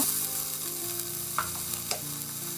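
Onion, green chili, mint and ginger garlic paste sizzle as they are sautéed in a pan for parotta salna, with a steady frying hiss broken by a few soft stirring scrapes and no talk.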